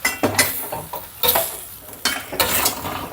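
Ginataan of squash and string beans being stirred in a pot, with irregular scraping and clinking of a utensil against the pan in short bursts over a faint simmer.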